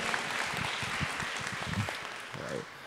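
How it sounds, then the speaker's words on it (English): A conference audience applauds during an alumni leadership keynote welcome, with quick scattered claps mixed with a few voices, moderately near and fading slightly toward the end. "Give him a round of applause."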